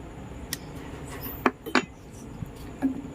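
A spoon stirs cornflour mixture into mango pudding in a pot, giving faint, scattered scrapes and light metallic clinks with no talking.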